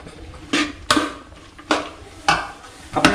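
Country chicken curry in Kerala style is stirred in a pot, a spoon knocking and scraping against the metal in a regular rhythm of about six distinct strokes over a faint background.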